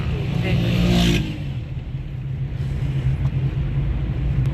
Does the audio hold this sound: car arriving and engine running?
yes